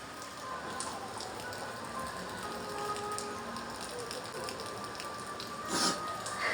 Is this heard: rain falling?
yes